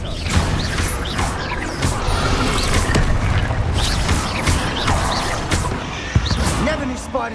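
Spell explosions and blasts from the Hogwarts Legacy video game, several booming impacts and crashes scattered through a busy, dense mix of game effects, with a voice casting spells over them.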